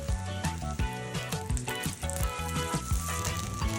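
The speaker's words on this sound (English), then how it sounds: "The pan is nice and hot. We add the eggplant." Japanese eggplant sizzles in oil in a hot pan, a continuous close crackling hiss running steadily behind faint music.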